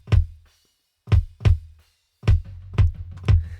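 Kick drum hits with a synthesized sub layer adding a deep low octave beneath each strike, heard in a loose sequence of single and doubled thumps with a longer booming tail, close and alone.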